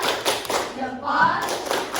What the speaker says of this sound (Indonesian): kita berikan tepuk jempol